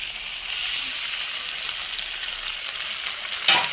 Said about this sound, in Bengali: তো যাই হোক, এখন আমি এর মধ্যে ডিমটা দিয়ে দেব।